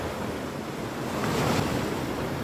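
Waves wash onto the shore at Normans Bay as the tide comes in, a steady broad rush of surf with wind buffeting the microphone, swelling slightly toward the middle and heard with no talking.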